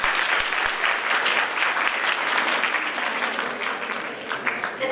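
An audience at a nutrition and COVID health hearing breaks into sustained applause, dense steady clapping that holds level for several seconds with no speech over it.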